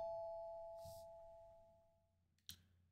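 In the Corpse Party horror video game, a doorbell sounds a two-note ding-dong chime that rings out and fades, followed by a sharp knock or click, quiet and alone.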